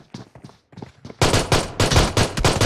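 Pistol fire from PUBG Mobile, a handful of sparse shots at first, then a loud, dense burst of rapid overlapping gunshots close by.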